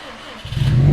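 A brand-new engine in a 2012 Subaru Impreza STI wagon catches on its first start, quiet cranking giving way to a sudden loud burst as it fires and revs up close by.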